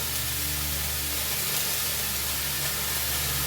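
Beetroot curry with tomato, salt and turmeric fries in a pan, giving an even, unbroken hiss of sizzling throughout, close and fairly loud, with no voices.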